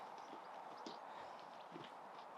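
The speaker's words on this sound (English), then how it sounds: "he's obviously feeling better because he's just chosen to canter in" A horse's hooves clip-clop at a canter as it comes in at the stables in the evening, a faint, fairly distant patter of beats over low background noise.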